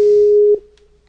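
A Skype call connecting tone sounds as a single loud, steady electronic beep of about half a second, then cuts off and fades into faint residual hum.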